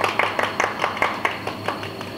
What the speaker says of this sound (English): let us give a polite clap for the party porter